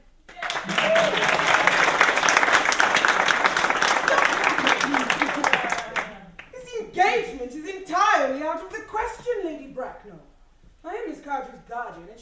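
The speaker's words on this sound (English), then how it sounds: "Clap for them." An audience claps loudly for about six seconds, then the clapping stops and people talk.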